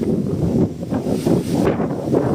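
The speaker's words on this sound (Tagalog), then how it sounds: "Lakas ng hangin dito." Strong wind buffets the microphone with a constant low roaring rumble that surges and dips, with no other sounds standing out.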